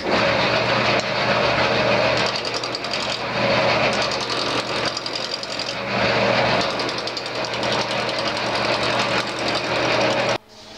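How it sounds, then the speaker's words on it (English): A wood lathe turning at about 400 rpm as a small roughing gouge shapes a peppermill blank, a loud continuous rattling, chattering cut with steady hum, stopping abruptly near the end. "I'm just going to rough this into shape with my small roughing gouge. My speed is at about 400"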